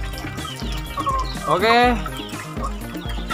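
Chickens cluck inside a tiered coop of Katuranggan Sisik Naga fowl, with a steady low clucking chatter and one louder drawn-out call in the middle, close by, while someone speaks a brief word.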